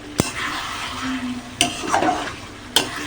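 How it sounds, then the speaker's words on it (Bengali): Chicken being sautéed in oil for biryani until the oil separates, a steady close sizzle with a few sharp spoon knocks and scrapes against the pot, and no talking. "মাংসটা কিন্তু কষানো প্রায় রেডি হয়ে গেছে। দেখুন একদম তেল ছেড়ে দিয়েছে।"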